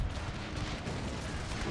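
Dense, continuous volleys of musket fire from infantry in the strategy game Total War: Pike and Shot, a steady crackling roar of overlapping shots with no talking.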